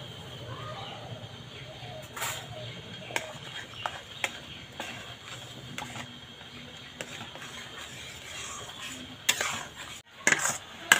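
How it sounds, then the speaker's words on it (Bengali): A spoon scrapes and stirs semolina cooking in water in a pot, a steady soft clatter of utensil against metal with a few sharper knocks near the end; no speech. "এইভাবে অনবরত নাড়তে থাকবো"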